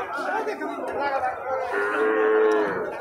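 Cattle lowing at a crowded cow market on the Bangladesh–India border at Rohanpur, with steady moos rising over busy crowd chatter and voices throughout.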